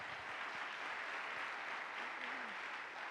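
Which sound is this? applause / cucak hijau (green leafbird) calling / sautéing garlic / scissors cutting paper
applause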